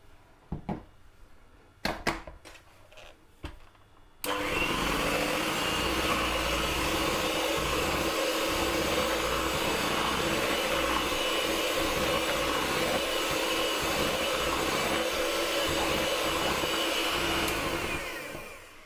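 An electric hand mixer whirs steadily as it beats cake batter with egg yolks and flour, a loud continuous motor drone running for about fourteen seconds after a few brief clatters and knocks.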